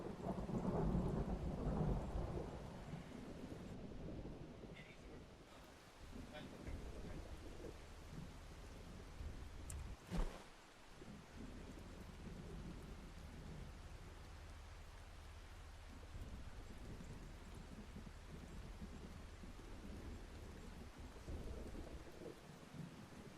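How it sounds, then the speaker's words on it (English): A thunderstorm in the PC storm-chasing game Outbrk: steady, heavy rain hisses throughout, with deep rolling thunder early on and a sharp lightning crack near the middle. "It's very heavy lightning, honestly. And it is very, very frightening."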